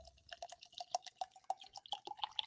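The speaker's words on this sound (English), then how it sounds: "Oh, we're pouring up something." Liquid being poured close by, a bright trickling and dripping with small splashy plinks in an irregular patter, quiet and alone without speech.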